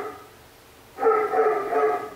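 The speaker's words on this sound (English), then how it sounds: "Please excuse my dogs." Several dogs bark and howl nearby in a home during a makeup session, a sudden loud chorus after a quiet stretch, continuing steadily to the end.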